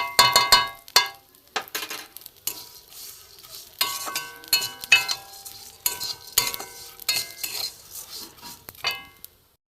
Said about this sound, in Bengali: একটু লাল করে ভেজে নেব, দেখতে থাকুন।